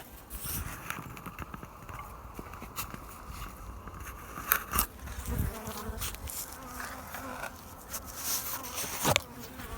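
Many bees buzz loudly at close range in a lifted beehive, a dense droning swarm with scattered sharp knocks and crackles of wood.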